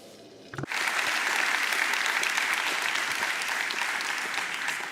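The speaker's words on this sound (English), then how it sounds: "please welcome both of them with a great round of applause" A large audience breaks into sustained applause after a quiet moment, loud dense clapping that fills the room and holds steady without letting up.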